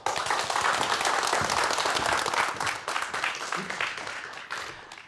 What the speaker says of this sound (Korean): 큰 박수로 무대 위로 모셔보죠.